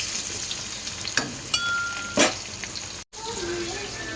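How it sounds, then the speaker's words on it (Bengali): Potatoes fry in hot oil in a pan, giving a continuous crackling sizzle with a few stirring scrapes and brief clatters, close and moderately loud, broken by a short dropout near the end. "আলুগুলো লাল করে ভেজে নেব আমি।"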